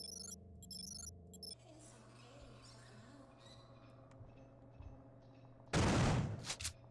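A single loud burst of gunfire at an alien egg in System Shock 2, sudden and short near the end, after quiet electronic game ambience and faint beeps.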